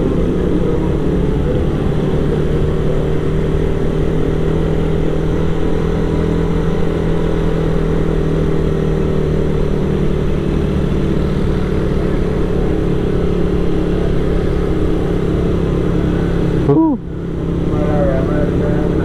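Vehicle pulling away at full throttle along a city street at night in Batam, a loud, continuous engine drone that holds steady close by for a long stretch, with a brief buffeting disturbance near the end.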